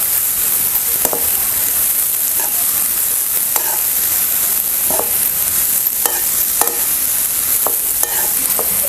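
Onion, cabbage and carrot sautéing in a pan make a steady, loud sizzle, with a spatula scraping and stirring in short irregular strokes.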